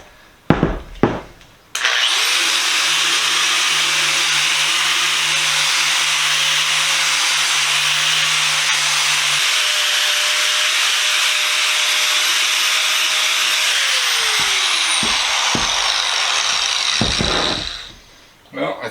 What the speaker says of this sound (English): I got my little mini grinder, got the cup wheel on there, and we're going to see what we can do with this